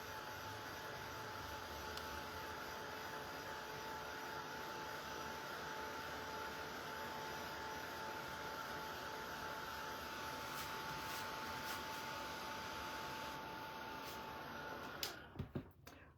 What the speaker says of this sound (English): Find my embossing tool and heat this up a bit.